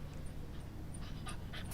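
A dog pants rapidly and close up near the shops at Betws-y-Coed, a steady breathy rhythm at moderate loudness with faint background noise and no talking.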